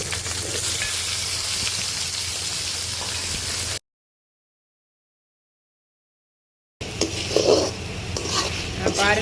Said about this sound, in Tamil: பச்சை மிளகா, பூண்டு, சின்ன வெங்காயம், தக்காளி எல்லாத்தையும் சேர்த்து ஒன்றா போட்டு நல்லா வதக்கணும்